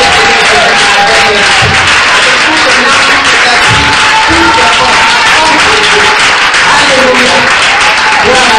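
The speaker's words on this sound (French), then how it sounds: "je veux qu'on se lève pour acclamer le Seigneur Jésus" A church congregation applauds and cheers to acclaim Jesus, with loud, dense, continuous clapping filling the room while a voice speaks over it.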